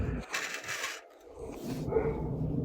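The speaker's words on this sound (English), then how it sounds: "the dog barks" A dog barks in short bursts at a moderate distance, apparently at a squirrel, with household shuffling and background noise between the barks.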